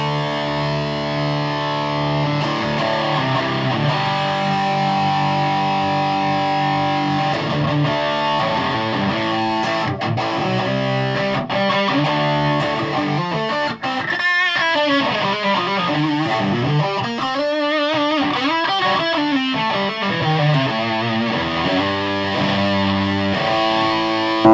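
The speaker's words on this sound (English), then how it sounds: "Obviously the distortion, it makes more difference on the clean because you're adding some gain in it." An electric guitar played through a TC Electronic Spark pedal with distortion engaged, giving sustained, loud, gritty chords and single-note runs, played alone without talk.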